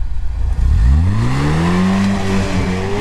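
An off-road car engine pulls slowly along a new line, a loud, close, steady rumble whose pitch climbs gently and then holds, with no talking over it.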